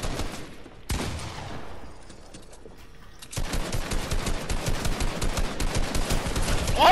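Video-game gunfire bursts out in dense, rapid volleys, starting with a loud crack, fading, then rising into sustained close automatic fire for several seconds.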